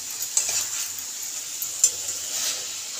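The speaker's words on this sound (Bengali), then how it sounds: "মানে একটু ফ্রাই করতে হবে।" Spicy lemon chicken fries in a pan with no added water, a soft, quiet sizzle with a couple of light clinks from stirring.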